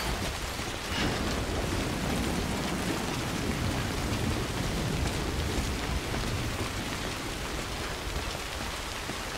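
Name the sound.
rain in the video game Death Stranding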